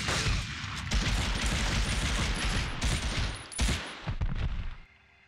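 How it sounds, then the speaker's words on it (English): Dense video-game gunfire in Medal of Honor, with continuous overlapping rifle and machine-gun shots and heavy thumps. The firing stays loud and close for nearly five seconds, then cuts off abruptly. "Someone else shot me there."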